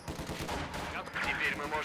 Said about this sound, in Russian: Вань, пулемет.